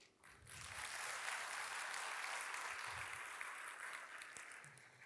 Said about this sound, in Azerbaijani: kifayət qədər gür alqışlar eşitdik